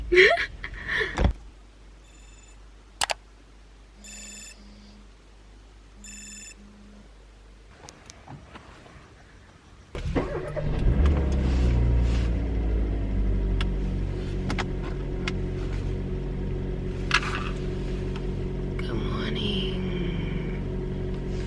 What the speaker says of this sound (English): the car's gonna be too loud for me right now